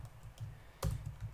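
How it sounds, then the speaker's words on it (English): Quick taps on a computer keyboard while entering text in Fusion 360 CAD software, a handful of soft close clicks with one firmer keystroke midway, heard alone. "I'll just click here somewhere and start typing"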